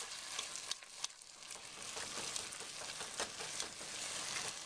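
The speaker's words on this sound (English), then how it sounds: "you use that to scrape any crusty bits that have come from the onion off the bottom of the pan" A utensil scraping browned onion bits off the bottom of a pan while French onion soup cooks, with a steady sizzle and several sharp scraping strokes coming through, close and alone.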